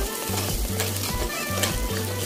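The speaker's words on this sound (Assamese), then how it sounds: "মছলাখিনিৰ পৰা অলপ তেল বিৰিঙি নহালৈকে ভাজি থাকিম" Masala fries in hot oil for an egg curry, a loud continuous sizzle with a spoon stirring and scraping the pan in steady repeated strokes, close up.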